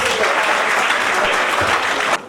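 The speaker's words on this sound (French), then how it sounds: "Encore des applaudissements pour elle." Applause rings out at a town hall civil wedding ceremony, a loud, dense burst of clapping that holds steady for about two seconds and then cuts off abruptly.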